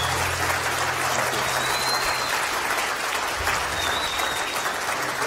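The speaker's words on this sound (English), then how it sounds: "A big round of applause." Audience applause fills a town hall meeting on border issues in Tucson, a steady wash of clapping from a crowd that carries on evenly throughout without letting up.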